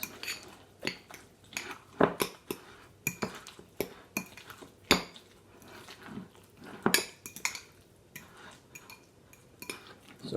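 Guacamole made with Hatch chili and lime is mixed in a bowl, a steady series of scraping clinks and taps of a utensil against the bowl, irregular but continuous, close and fairly loud, without talking.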